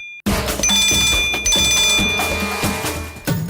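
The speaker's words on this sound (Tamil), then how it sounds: "யார்தோ மொபைல் ரிங் ஆகுது பாரு." A phone rings with a repeated electronic bell-like trill in short bursts, fairly loud and close, running through the whole stretch with no talking over it.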